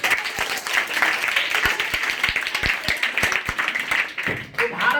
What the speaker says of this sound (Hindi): बताइए जोरदार ताली।